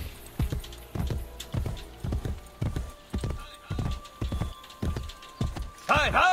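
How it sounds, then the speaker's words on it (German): A horse trots in Assassin's Creed Brotherhood, its hooves clip-clopping in a steady, evenly spaced rhythm up close, ending with a brief whinny while someone talks over it. "Ah, da haben wir doch schon ein schönes Pferd."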